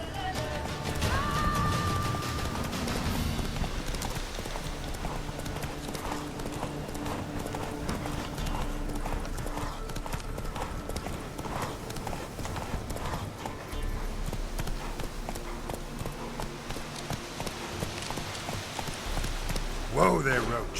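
Roach, the horse in The Witcher 3, trots along with steady hoof clip-clops on the ground, a quiet and continuous rhythm with light rain-like patter underneath and no talking.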